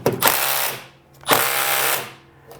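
Impact wrench straining against a very tight 10mm bolt on a Briggs & Stratton snowblower engine: two loud, close, sustained buzzing-hammering bursts of about a second each, separated by a short pause, with no speech.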